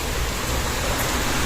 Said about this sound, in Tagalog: So ngayon, yung ulan is inday-inday pa at saka walang hangin na kasama